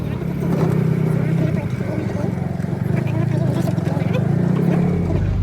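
Auto rickshaw ride through busy city traffic on the way to a DMart store, with a steady, loud engine drone and road rumble throughout and voices talking over it.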